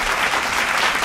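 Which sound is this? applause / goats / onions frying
applause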